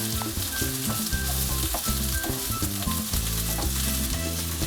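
Okonomiyaki with melting cheese sizzles on a hot griddle in a loud, steady hiss, with occasional scrapes and spatula movement close by and no talking.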